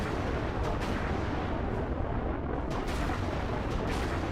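Side-mounted spaceship weapons fire in a Halo Reach mod space battle, making a continuous, loud, rumbling barrage of booming blasts with no talk.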